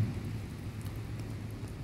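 Rain falls outdoors as a steady, soft patter with a low rumbling undertone, continuous and fairly quiet, with nobody speaking.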